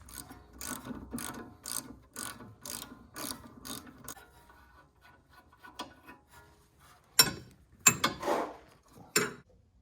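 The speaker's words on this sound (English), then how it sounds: "I put one of those E-Torques into the bolt, and then I'm undoing the nut at the same time" A hand ratchet loosens the front axle nut on a BMW E90 xDrive, a fast regular clicking run up close, then a pause and a few heavy, sharp clanks and clicks.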